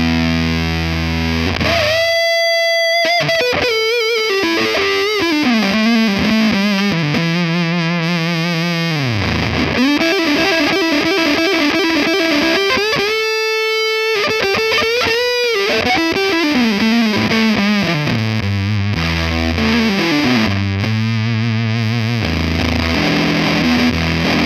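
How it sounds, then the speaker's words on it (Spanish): Electric guitar played through a Walrus Audio Jupiter fuzz pedal, thick, noisy distorted tones sliding and bending through notes with sudden pitch drops and short choppy bursts, loud and close with no talk. "que busca lograr un fuzz abundante y ruidoso"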